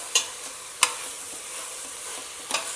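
Steady sizzle of potatoes frying in an oil tempering for methi khichdi, broken by three sharp clacks of a spoon stirring against the pan.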